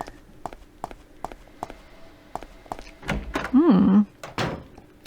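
A locked door rattles in the PS1-style game Twin Peaks: Into The Night as a run of evenly spaced knocks and thuds, then a heavier clatter and a brief gliding tonal sound near the end.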